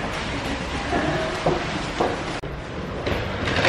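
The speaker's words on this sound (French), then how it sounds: "Donc maintenant on reprend le train, le métro pour Motoyama." Riding a metro train to Motoyama in Japan, a steady loud rumble of the moving carriage with rattles and a brief dip partway through, no clear talking.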